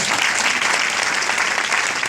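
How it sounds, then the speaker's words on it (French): Enthusiastic audience applause for doctors being introduced at a business project presentation, a thick, uniform roar of many hands clapping at once, loud and unbroken from start to finish. "Applaudissez très fort."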